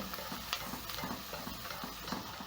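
Beef stew with a beef stock cube and a seasoning cube being stirred in a pot, a steady soft scraping and bubbling with faint sizzling, close and continuous without talk.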